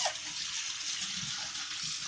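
Water runs and splashes steadily while rinsing out a Fridja f1900 appliance, a continuous close hissing gush with no talk over it.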